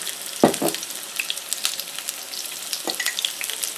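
Small pieces of food frying in oil in a large cast iron pan: a continuous close crackling sizzle, with a couple of louder splashy bursts as pieces drop into the hot oil.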